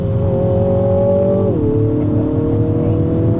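Engine of an Audi S4 or JCW Clubman revving after a downshift, a loud close steady tone that drops sharply in pitch midway and settles into a lower sustained drone.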